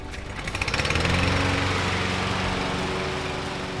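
A lawn mower runs in a home yard with a loud, steady, pulsing engine drone close by, rising at the start and holding for several seconds with no voices.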